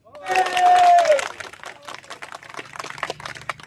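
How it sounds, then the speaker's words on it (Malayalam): A crowd at a Mar Thoma community protest gathering claps in a broad, steady wash of applause that starts loud and slowly thins, with a voice and a faint tone rising briefly above it. "നമ്മൾ നമുക്ക് വേണ്ടി കൈയടിക്കണം"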